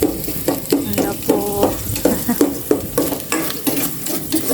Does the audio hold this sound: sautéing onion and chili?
yes